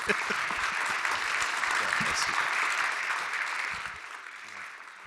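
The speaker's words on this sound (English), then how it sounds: "Round of applause for Jeremy." Loud, sustained audience applause at a small-town pitch event, a thick wash of clapping that holds steady before easing off toward the end.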